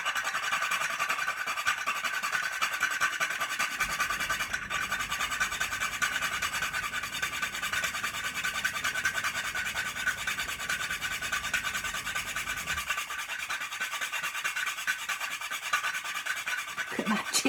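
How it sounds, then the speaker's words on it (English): A whole nutmeg grated for lasagna, a steady loud scraping rasp that runs continuously for the whole stretch, close up and without any talk. "I'm going to grate into it an entire nutmeg."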